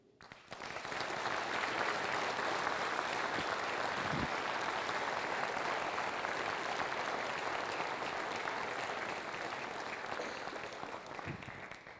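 A large audience at a city State of the City address claps steadily, welcoming the mayor to the stage. The applause is loud and sustained for nearly the whole stretch, tapering slightly at the end.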